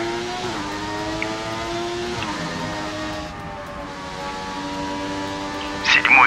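Racing car engine at full throttle on the Shanghai circuit in a racing game, a steady high whine with rising harmonic sweeps as it shifts and accelerates, a brief dip around midway and a sharp tire squeal near the end.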